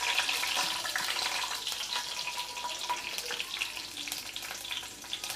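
Fenugreek, cumin and garlic crackle and sizzle in hot oil, a continuous bright frying hiss with small pops, fairly quiet and without talk.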